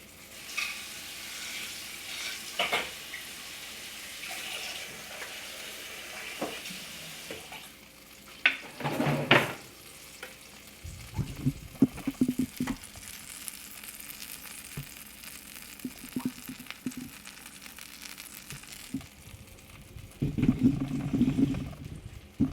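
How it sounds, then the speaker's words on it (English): Sizzling and crackling from pork chops in a frying pan, with bursts of clatter and stirring between quieter spells of hiss. "Hear that sizzle?"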